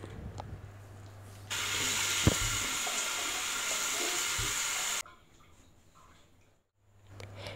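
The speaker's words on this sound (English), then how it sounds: "Wash your face with your soap and rinse and pat dry." Tap water runs steadily for about three and a half seconds while someone rinses their face at a sink, a loud hissing gush that cuts off abruptly, with quiet room tone before and after.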